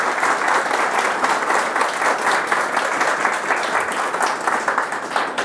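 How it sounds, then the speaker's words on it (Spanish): Steady, dense applause from a lecture audience at a talk on Teotihuacan and astronomy, many hands clapping evenly throughout with no voices breaking through. "Gracias. Un aplauso. Gracias."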